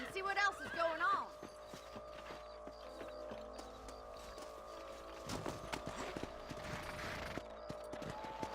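Horses trot in the Western video game Red Dead Redemption, with steady hollow hoof clip-clops and creaking tack under game music and a horse's whinny at the start.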